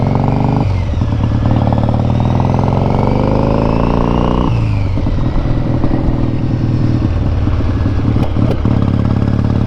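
A motorcycle engine runs loud and close while riding on a hot day with the choke partly on, a steady throbbing drone whose pitch rises and falls as the throttle shifts.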